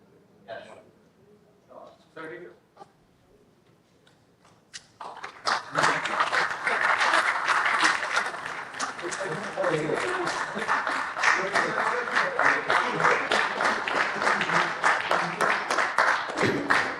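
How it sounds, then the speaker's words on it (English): Audience at the 22nd MMA Awards for Managerial Excellence bursts into loud, sustained applause for award winners on stage, a dense wall of clapping that follows a few seconds of quiet murmuring and scattered sounds. "Let's give them a big round of applause."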